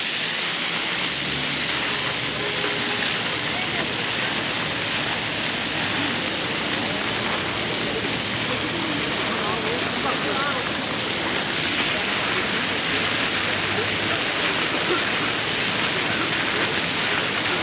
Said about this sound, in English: That's the water fountain, is that?